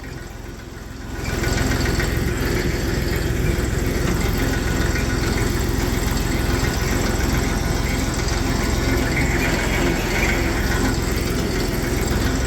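A small Massey 35 tractor engine runs loudly and steadily after a brief quieter start, a constant rumbling drone with a rough, knocking texture.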